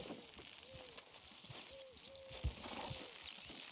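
Faint clip-clop of horse hooves with occasional whinnies as horses pull in the video game Red Dead Redemption 2, over a low, busy background like a game soundtrack.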